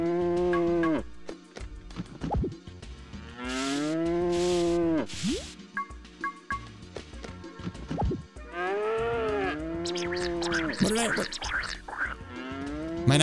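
Cows mooing on a farm in Harvest Moon Magical Melody, several drawn-out, close moos in a row with short gaps, joined near the end by a busier burst of game sound effects and brief chimes.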